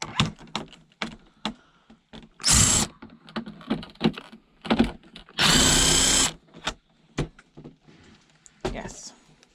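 A power drill unscrews screws from scrapped aluminium e-waste pulled from a skip, with two short whirring bursts, the second longer, amid close clattering and handling knocks.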